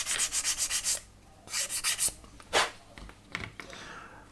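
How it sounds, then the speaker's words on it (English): Rhythmic rasping strokes of 220 grit sandpaper on a wooden model ship part, a quick run of back-and-forth rubs, a pause, another burst, then a few scattered scrapes, close and clear. "I'm using 220 grit in the main for the sanding jobs."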